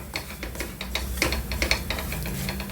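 Semolina dry-roasting in a pan while being stirred: a continuous dry scraping and rustling with irregular clinks of a utensil against the pan, close and steady, with no voices.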